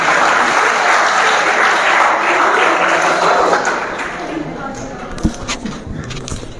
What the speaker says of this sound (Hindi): भरपूर तालियां।